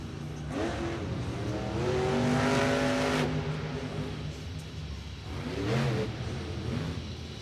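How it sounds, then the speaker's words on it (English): Max D monster truck at a Monster Jam event in The Dome at America's Center, St. Louis, launching off a jammer ramp: a loud roaring engine that revs up, holds, and surges again amid arena din. "Tom Mance slow and steady around the turn, launches Max D off the jammer."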